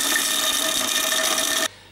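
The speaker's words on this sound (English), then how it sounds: "that's going to go then onto my electric grinder, and then we pop the lid on." Electric spice grinder whirring on whole spices and cloves, a loud, steady close buzz that cuts off abruptly near the end, leaving quiet.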